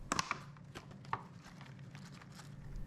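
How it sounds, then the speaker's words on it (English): Fresh chives chopped with a knife on a board: a few crisp close cuts at the start, then sparse quieter taps over a low background hum. "I'm going to chop up some chives for our sandwich"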